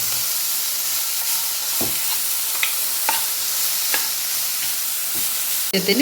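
Broccoli and beans sizzle steadily in a pan for a broccoli-carrot thoran, with a constant frying hiss broken by a few soft stirring knocks and a louder clatter right at the end; no one speaks.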